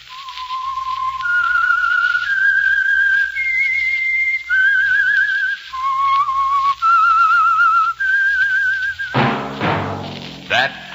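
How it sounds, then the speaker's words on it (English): The theme of The Whistler radio show is a solo whistled melody of distinct held notes stepping up and down, loud and clear, ending as a musical chord swells in. "That whistle is your signal"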